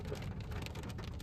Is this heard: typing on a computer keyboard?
no